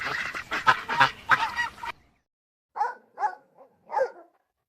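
A dog barks several times at close range. A dense burst of barking comes first, then a pause, then four short, separate barks.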